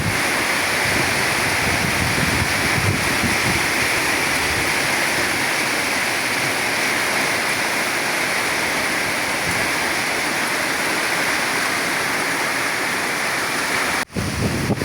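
Rushing floodwater roaring steadily during a flood, a dense unbroken wash of water noise that stays loud and even throughout, with a brief dropout near the end and no voices.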